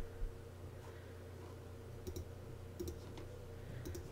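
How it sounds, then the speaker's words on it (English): Computer mouse clicks while a text box is dragged out in a digital layout program: a few faint, sharp ticks in small pairs spaced about a second apart over a quiet room hum. "I'm going to go ahead and click and drag so it's this area once again"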